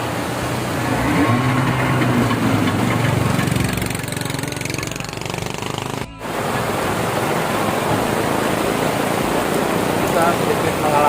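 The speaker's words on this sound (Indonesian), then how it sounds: "motoris sedang berusaha menghidupkan mesin karena sedikit ada kendala teknis di bahan bakar" A boat's outboard motor, troubled by a fuel problem, churns and sputters loudly as someone tries to start it on a rough-weather river trip, with a steady broadband roar and rain-like hiss, briefly cutting out before picking up again.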